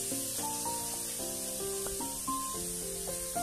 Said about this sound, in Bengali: এখন এর উপর দিয়েই এই পেঁয়াজগুলোকে দিয়ে দেবো।